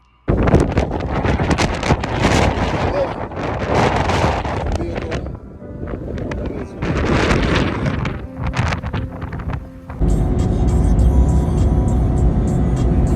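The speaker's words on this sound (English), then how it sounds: "Still driving through Arizona." A car cruises along a highway through Arizona, a steady loud roar of road and wind noise heard from inside. The tone shifts a few times and turns to a denser rushing hum near the end. No one speaks.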